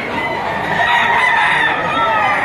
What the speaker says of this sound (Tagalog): Ganda manok ito. Bull stag na ito.